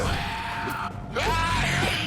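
An enemy screams in the Vampyr video game, heard as a loud, strained yell with a rising then sustained cry, over a dense, noisy game soundscape.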